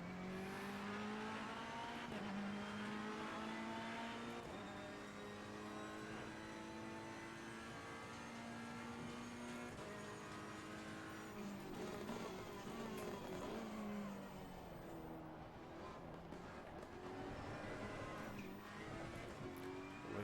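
A Ferrari race car is driven in Assetto Corsa Competizione, its engine droning and rising and falling through gear changes, with tyre squeal at the limit and a continuous loud hum throughout.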